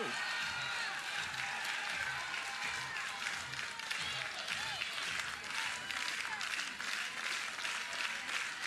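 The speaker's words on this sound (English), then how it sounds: "Crowd into it in Baton Rouge." Crowd cheering and clapping at a college softball game between Florida and LSU in Baton Rouge, a steady roar of voices and whistles from a stadium audience, with no individual words.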